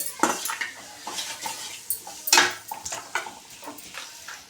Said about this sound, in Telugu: సాల్ట్ కొంచెం ఇప్పుడు వేయించుకోవాలి బాగా వేయించుకోవాలి